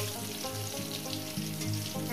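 Pointed gourd and potato pieces fry in a pan with a continuous close sizzle, broken by rhythmic scraping and stirring strokes, with no voices.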